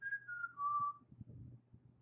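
A single person whistles a short tune, a clear close melodic line that slides downward, followed by faint low background rustle.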